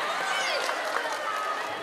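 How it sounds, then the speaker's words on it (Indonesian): Children clap their hands in applause during an afternoon Quran study session, a dense, steady patter of claps with voices mixed in under it. "Tepuk tangan."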